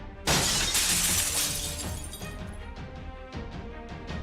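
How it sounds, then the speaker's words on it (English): Glass shatters loudly and rains down in the game Fate/Grand Order: a sudden bright crash followed by a long tinkling cascade of falling shards and scattered clinks that thin out over several seconds. "Why is it raining glass?"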